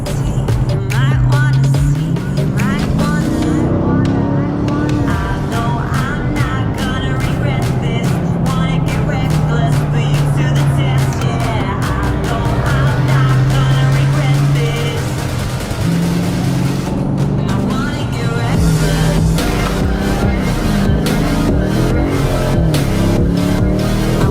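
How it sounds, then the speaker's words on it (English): A 2019 Dodge Challenger Scat Pack Shaker 392's active exhaust rumble drones steadily, loud and close, with the engine note rising and falling through the gears. "You can hear that rumble from the active exhaust that comes equipped standard on these vehicles."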